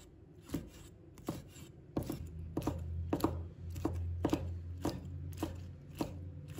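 A knife chops soaked wood ear mushrooms into small pieces on a board, making about a dozen sharp, close thuds at an uneven, unhurried pace over a low steady background hum.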